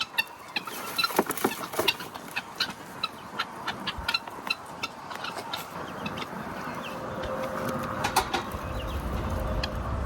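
Farm chickens cluck and squawk close by in quick, irregular bursts against a rustling, scratchy background, with no talking.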